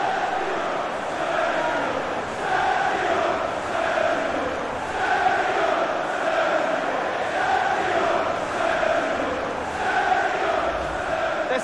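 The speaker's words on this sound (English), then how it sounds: "The crowd have gone crazy, and quite rightly so." Stadium crowd roaring steadily after a goal in the FIFA 21 football game, a Manchester City versus Chelsea Champions League final, with dense sustained cheering and waves of noise throughout.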